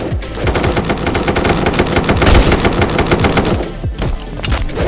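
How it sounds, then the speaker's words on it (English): Rapid automatic gunfire in an online battle royale shooter, dense and loud bursts rattling continuously with many overlapping shots, from behind the player, with a brief lull near the end before firing resumes. "Someone shooting me from behind."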